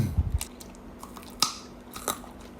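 Big crunchy squid is bitten and chewed close up, with a few crisp bites at the start and two louder crunches later, separated by quiet chewing.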